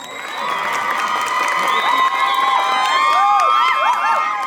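Crowd at a school graduation ceremony cheers and whoops over sustained applause for several seconds, with excited children's voices rising above the clapping.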